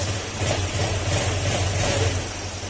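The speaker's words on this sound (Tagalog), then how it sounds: "tahimik na tahimik na yung kanyang makina" Low, steady motorcycle engine hum idling evenly with a soft regular pulse, quiet and continuous with no voices.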